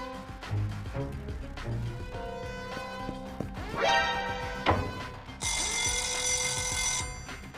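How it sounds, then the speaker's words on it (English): A fire alarm bell sounds loudly over an animated heist scene, a bright continuous ringing tone surging in from the midpoint and holding steady, with clatter and other effects earlier. "I've also triggered the fire alarm"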